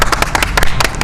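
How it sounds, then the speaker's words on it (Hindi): Sharp, irregular hand claps ring out at an election rally in Uttar Pradesh, several close bursts in quick succession, loud and punchy, with a low background rumble beneath. "तालियां।"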